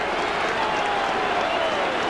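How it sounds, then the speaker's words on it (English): A big Halifax rugby league crowd roars and applauds after a try in a 1987 cup match, a steady, dense wash of cheering and clapping throughout. "big Halifax crowd delighted by it all"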